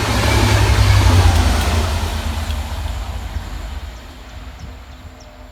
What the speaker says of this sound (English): Passing fast on Divert with stock HDO1 for transport for Wales is 67007